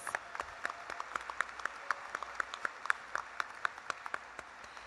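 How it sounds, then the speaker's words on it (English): Applause at a university commencement ceremony for Health & Human Services and Entrepreneurship graduates, heard as sparse, distant-sounding individual claps in a quick irregular patter, faint and thin rather than a full ovation. "Let's give them a round of applause, please."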